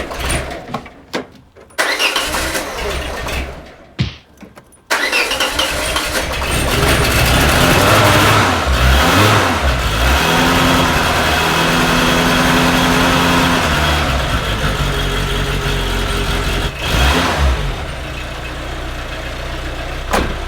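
A Peugeot 205 petrol engine idles steadily after the choke is pushed in, a continuous near, loud running drone with slight speed wobble, preceded by a few brief sharp knocks and cranking bursts.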